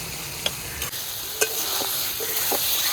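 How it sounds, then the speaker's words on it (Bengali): Marinated meat frying in a wok, a constant bright sizzle with a few sharp clinks and scrapes of a stirring spoon against the metal, close and fairly loud. "ম্যারিনেশন করা মাংসটা কড়াইতে দিয়ে দিলাম। মাংসটা ভালো করে নাড়িয়ে দিয়েছি"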